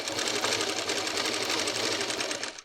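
Sewing machine stitching a petticoat, a loud, fast, continuous mechanical whirr of rapid stitches close by, running steadily before slowing and stopping at the end.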